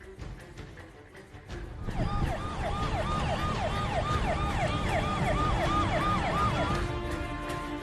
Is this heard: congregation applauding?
no